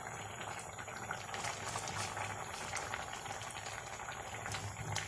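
Thai fish-kidney curry (kaeng tai pla) made from dried fish kidneys, with eggplant added, boils in a pot, giving a steady, dense bubbling and popping that runs evenly throughout with no voices.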